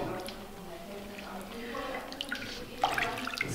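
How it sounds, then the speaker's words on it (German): A piece of curd soap and some wool go into a bowl of water for felting, making soft splashes and wet squishing that grow a little busier toward the end, over a low, quiet background. "Und das Stück Kernseife tue ich jetzt in die Schüssel mit Wasser"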